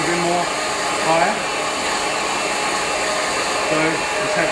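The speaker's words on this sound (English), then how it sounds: "Get the hair dryer. And dry the spray." A hair dryer blows steadily close by, drying hairspray on styled hair, a constant loud airy whir with small shifts as it moves.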